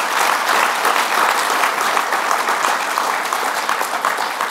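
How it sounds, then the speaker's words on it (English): A conference audience at a tech event launch and panel applauds a speaker with steady, loud, continuous clapping that fills the whole stretch without pause. "A round of applause once again,"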